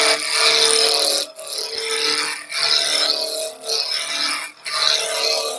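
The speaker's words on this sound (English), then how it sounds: "Let's have roughening gouge. Straight cylinder." A roughing gouge cuts a wooden blank into a straight cylinder on a lathe spinning at just over 2,000 rpm. The tool makes a loud, close, rasping hiss in long passes, broken by brief pauses between strokes.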